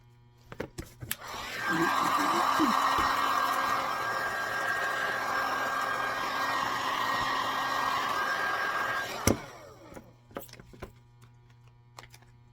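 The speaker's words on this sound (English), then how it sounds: "I'll be grinding all of that out" A power grinder works a sandal sole smooth, a steady high whirring drone of about seven seconds that starts and stops abruptly, with scattered clicks and handling knocks before and after.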